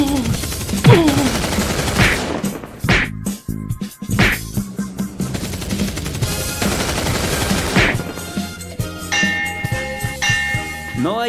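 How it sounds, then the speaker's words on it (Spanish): Robot battle from a Transformers film, rapid machine-gun bursts, sharp impacts and metallic clangs hit loud in quick succession amid a dense cinematic mix. "La batalla con disparos y golpes entre las máquinas inicia."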